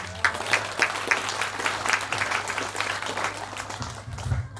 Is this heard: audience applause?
yes